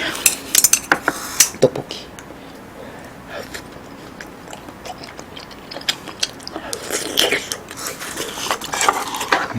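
Metal cutlery clinks and scrapes against dishes while someone eats a Korean meal of pork jjageuli stir-fry with tteokbokki rice cakes and rolled omelette, with sharp close taps clustered at the start and end and quieter chewing between.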